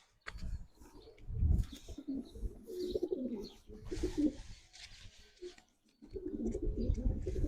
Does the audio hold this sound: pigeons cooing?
yes